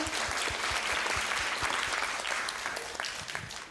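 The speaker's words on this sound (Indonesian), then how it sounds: "tepuk tangan semuanya" A group in a dance class bursts into lively applause, many hands clapping close together in a steady roar that eases off slightly toward the end.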